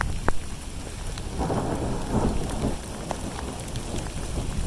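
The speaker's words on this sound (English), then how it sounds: "I love the rain." Heavy rain pours down steadily during a thunderstorm at seeding time, with low thunder rumbling through the downpour and no voices.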